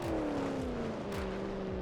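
A Moonhawk car engine in BeamNG Drive drones steadily while cruising, its pitch sliding slightly down and then settling, with faint rhythmic thumps under the constant hum.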